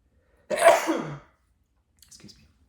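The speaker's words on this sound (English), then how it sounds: "Excuse me, I'm gonna sneeze." One sharp, loud human sneeze bursts out close to the microphone, followed by a faint short exhale after a brief pause in otherwise quiet surroundings.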